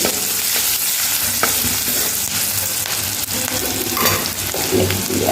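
Meat, onion and potato frying in a pan while being stirred, a loud steady sizzle with scraping stir strokes throughout, no voices.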